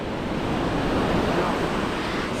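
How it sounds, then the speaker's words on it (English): Heavy surf pounding Kata Noi beach in Phuket produces a loud, unbroken roar of crashing waves that fills every moment, with no speech. "it's so loud here because the waves is crazy."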